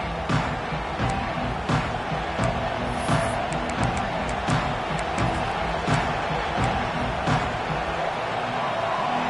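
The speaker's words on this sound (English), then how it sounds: "This crowd ready to make its presence known." A stadium crowd in the College Football 26 video game keeps up a loud, steady roar with scattered sharper bursts and claps, mixed under game commentary.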